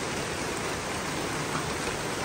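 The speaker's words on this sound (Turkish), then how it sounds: "Mis mis yağıyor." Steady rain falls outside a window, a dense, continuous hiss of drops on surfaces that holds at an even level throughout with no talking.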